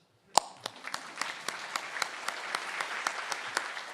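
A small conference audience claps, starting with a sharp clap and building into steady, moderately faint applause.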